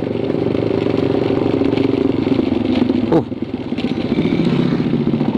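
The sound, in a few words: motorcycle exhaust pipe while riding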